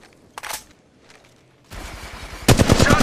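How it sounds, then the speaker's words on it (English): Automatic weapon fire in the Apex Legends Mobile video game: a couple of faint early shots, then dense rapid bursts that grow louder and closer toward the end, with no voices. "Shots fired, and they're hitting."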